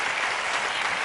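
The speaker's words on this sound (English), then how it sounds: "they all applaud" A studio audience on the Letterman talk show breaks into dense, steady applause, loud and continuous throughout with no gaps.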